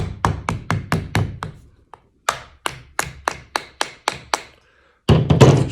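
Repeated sharp taps of a rubber mallet on metal while shaping a DIY tine weeder, struck in quick bursts of single blows with short pauses between, close and loud, ending in a denser clatter.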